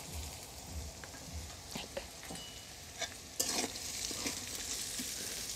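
Carrots and peas frying together in a pan give off a steady, moderate sizzle, broken now and then by soft stirring scrapes, with the frying turning louder and brighter toward the end.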